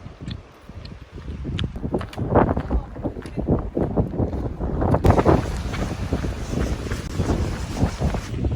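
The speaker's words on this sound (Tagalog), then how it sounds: "Mahangin, cloudy." Strong gusting wind under cloudy skies on the Lindeman Lake Trail near Chilliwack buffets the microphone in a steady, rough roar that rises and falls for the whole stretch, with no voices audible.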